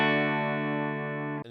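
Electric guitar run through a Headrush amp with the channel volume at half, a single sustained distorted chord ringing steadily for over a second before it is cut off abruptly.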